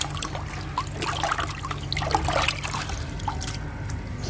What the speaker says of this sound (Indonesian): Garamnya kita tabur aja ke dalam ember, kita aduk supaya bisa cepat larut.